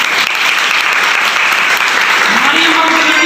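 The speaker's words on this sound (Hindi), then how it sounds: "पहली तालियां लो" Loud, dense applause from a church congregation during an Easter service, a continuous wash of clapping close to the listener, with a voice rising briefly near the end.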